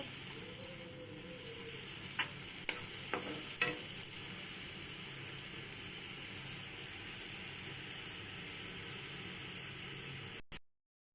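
A continuous hiss of coriander leaves frying in oil for a coriander mash, with occasional stirring clicks, steady and close before cutting off abruptly at the end.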